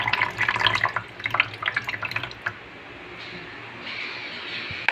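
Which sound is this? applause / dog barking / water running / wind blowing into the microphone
water running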